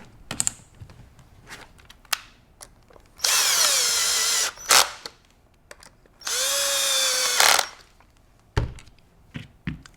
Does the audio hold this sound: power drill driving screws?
yes